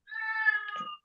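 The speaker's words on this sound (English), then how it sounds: "sorry, that's my cat." A house cat gives a single drawn-out meow lasting about a second, close and clear against a silent background, ending in a short lower grumble.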